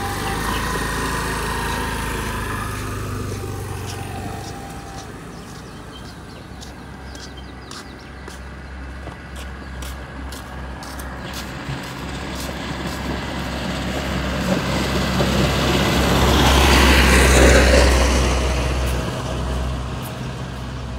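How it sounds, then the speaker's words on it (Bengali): A rented scooter in Sreemangal is ridden with its small engine droning steadily, the whine and rumble swelling louder toward the end as it speeds up or passes close, with road and wind noise throughout. "স্কুটিটা একটু চালাই, তো দেখেন অনেক দিন পর বাইক চালাইতেছি"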